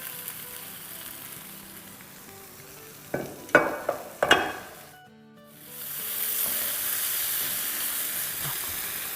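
Oil poured into a hot pot makes a few sharp clattering knocks, then a brief quiet before a broad, steady sizzling hiss rises and holds at moderate loudness to the end.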